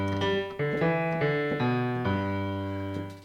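Piano playing the opening bass line of a song, thick low notes struck one after another in a steady, deliberate run, close and clear with no voice over it.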